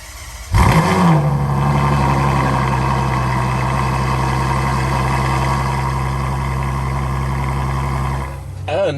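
A 2018 Ferrari GTC4Lusso's naturally aspirated V12 barks to life, then settles into a loud, steady, deep idle that holds for several seconds before a slight change near the end.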